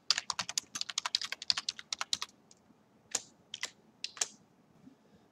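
Rapid, crisp keystrokes on a computer keyboard, close and quiet, in a fast burst for about two seconds, then scattered single taps with pauses.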